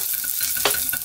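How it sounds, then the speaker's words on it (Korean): Sesame oil heats in a pot for Korean rice cake soup, crackling and sizzling close up with faint stirring scrapes and no voices. "이제 떡국 끓이실 때 지난번처럼 참기름을 조금 넣고요. 반 스푼 넣었거든요. 이렇게 조금 달궈줍니다."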